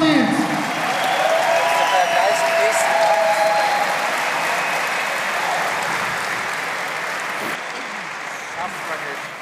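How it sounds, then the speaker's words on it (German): Crowd applause for two boxers at the end of a fight, a dense steady roar of clapping and cheering that fills the whole stretch and eases slightly toward the end, with a commentator's voice faintly underneath. "haben sich hier nochmal einen extra Applaus verdient."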